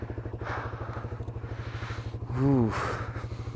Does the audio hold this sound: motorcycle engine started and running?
yes